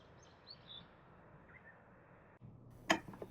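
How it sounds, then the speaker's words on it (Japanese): Faint, sparse chirps of small birds in a quiet riverside countryside setting, followed by a sharp close click near the end. "静寂の中で小鳥のさえずりだけが聞こえてきます。"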